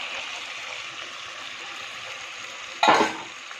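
Mutton drops into spiced oil for Bengali mutton malai curry, setting off a sudden loud burst of sizzling that fades after a moment, following a soft steady frying hiss.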